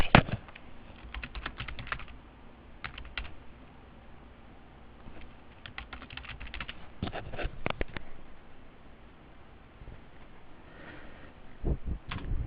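Fingers tap on a computer keyboard entering accounting data in short bursts of rapid, crisp keystrokes separated by pauses, close and fairly quiet.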